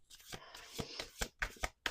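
Several quick riffling bursts of cards being shuffled close by, in an uneven rhythm, fairly quiet.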